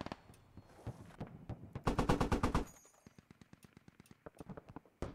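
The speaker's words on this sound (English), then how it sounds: "Just hearing your bullets crack past me is fucking wild." Gunfire in the video game Squad, with a dense, loud burst of automatic fire in the middle, then a long string of evenly spaced single shots, sharp and fairly close, with scattered cracks before.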